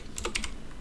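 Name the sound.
typing code on a computer keyboard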